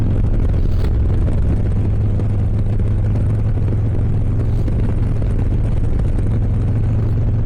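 A 2023 Harley-Davidson Low Rider S motorcycle cruising through scenic Washington, a steady, loud engine drone with heavy wind rush that continues unbroken for the whole stretch.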